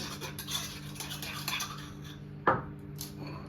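A spoon mixes seasoned food in a bowl, giving soft repeated scraping strokes followed by a single louder knock of the spoon against the dish, close and otherwise quiet.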